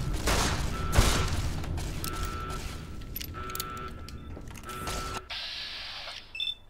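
Gunfire in the Fallout New Vegas video game, a sharp shot followed by mechanical clicks and reload sounds, with a brief tonal game cue near the end.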